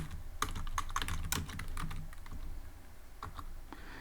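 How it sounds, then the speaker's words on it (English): Someone typing on a computer keyboard while entering food names into a Python program: rapid clusters of key clicks with brief pauses, close and fairly quiet, no talking. "Let's type pizza, ice cream"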